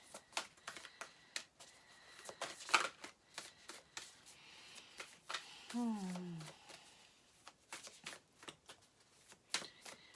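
Tarot cards being shuffled in quick riffling bursts and soft slaps, close and crisp, with a brief voice-like tone partway through.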